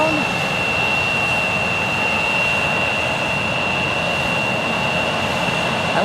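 A Delta A220 airliner on approach with landing gear down at Tucson International Airport, heard as a steady broadband jet roar holding level throughout, with a thin high whine riding on top and no talk over it.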